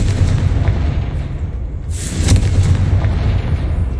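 A Confringo spell detonates in Hogwarts Legacy, a deep booming blast that swells near the midpoint over a constant low rumble of battle noise, with no voices.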